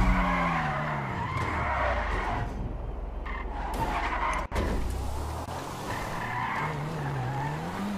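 Tires squeal loudly as a car brakes hard and skids in the Grand RP driving game, a sustained screech with a sliding pitch over engine noise and a brief dropout midway.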